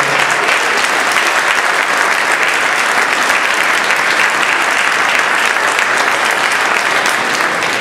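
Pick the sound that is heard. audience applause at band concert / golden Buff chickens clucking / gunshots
audience applause at band concert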